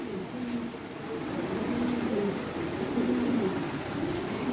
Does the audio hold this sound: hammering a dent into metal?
no